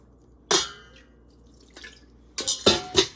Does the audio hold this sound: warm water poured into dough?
yes